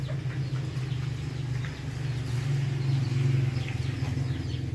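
Chicken clucking near a home kitchen in a rural garden setting, repeated soft clucks over a steady low hum of background noise, no talk.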